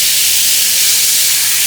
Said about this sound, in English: All I'm going to do is spray a little water in